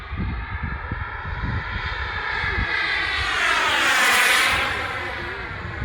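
The turbine engine of an Aermacchi MB-339 radio-controlled model jet roars loudly and continuously with a high whining tone that rises and swells midway, as if the jet passes close by.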